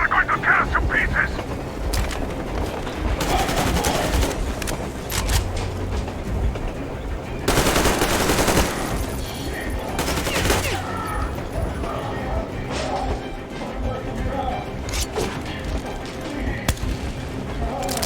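Dense gunfire and explosions in the video game Metro Exodus, with rapid rattling bursts and heavy booms layered over a rumbling din and shouting voices, loud and continuous.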